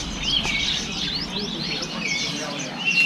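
Birds chirp and call continuously at Yuen Po Street Bird Garden, where a big parrot is kept, a dense bright twittering chorus close by with steady background noise.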